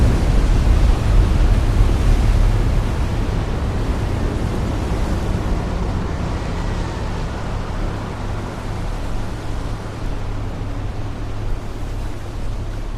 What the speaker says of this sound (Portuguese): Até a chegada da grande onda.